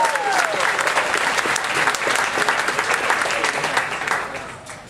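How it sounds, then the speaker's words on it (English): Audience at a panel session applauds with dense, steady clapping, some individual claps standing out near the front and a faint voice or cheer mixed in, before the applause thins and fades at the end. "So let's give them a round of applause"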